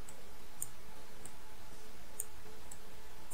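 A few sharp, faint computer mouse clicks spaced irregularly apart while editing in CorelDraw, isolated ticks over a steady low hiss.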